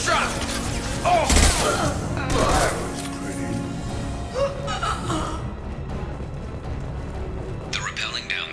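Gunfire in Mass Effect 2 on PC, scattered shots and impacts mixed with game sounds, mostly under steady talking.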